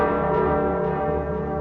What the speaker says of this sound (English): does anyone else hear those ominous bells tolling?